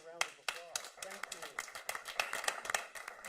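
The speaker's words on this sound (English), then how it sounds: "let's give them a round of applause." Scattered clapping from a small audience at a state board of education meeting, with distinct separate claps that sound close and fairly quiet, while people talk over them.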